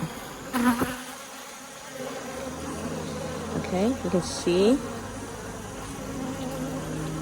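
Honeybees buzz on a hive frame lifted from the hive during a sugar-water feeding: a low, steady hum of many bees with a few closer passes, while a person speaks briefly over it.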